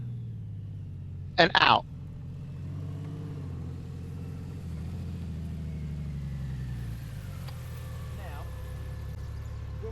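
A Honda Goldwing DCT motorcycle engine idles and rumbles steadily through a stop and tight turn, heard up close with a brief voice near the start.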